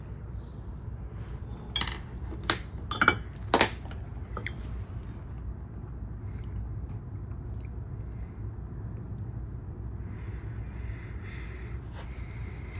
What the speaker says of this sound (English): I'm rinsing my front brush clean